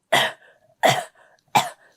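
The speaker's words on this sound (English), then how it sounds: "dry cough, driest cough" Three dry, hacking coughs, evenly spaced and close, with short quiet gaps between them.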